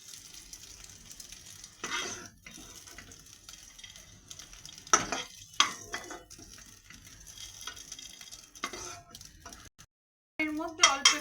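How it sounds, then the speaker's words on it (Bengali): Butter and cumin seeds sizzle in a pan while paneer is being cooked, a steady frying hiss with stirring scrapes and clinks, broken by a brief silence near the end, under a person's voice. "এর মধ্যে অল্প একটু বাটার দিয়ে দিলাম, দিয়ে জিরেটা দিয়ে দিলাম"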